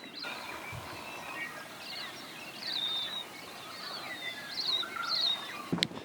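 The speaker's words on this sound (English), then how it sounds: "You can really hear the birds." Birds chirp and sing in scattered short phrases near Mt Taranaki, New Zealand, faint and fairly distant over soft outdoor ambience, with a brief knock near the end.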